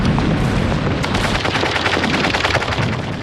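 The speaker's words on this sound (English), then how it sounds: "they were mown down by German machine guns" Dense, continuous German machine-gun fire rattles without a break, loud and close, as rapid overlapping shots fill the whole stretch.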